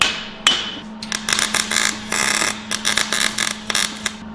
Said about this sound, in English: We're gonna go ahead and get these tacked in here